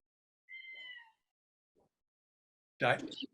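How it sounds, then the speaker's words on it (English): A pet cat meows near a microphone during an online group call, with a soft, drawn-out meow, a brief faint sound, then a louder, sharper meow at the end. "Who has the cat?"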